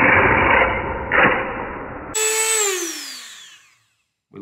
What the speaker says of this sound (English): this blade seems much better at cutting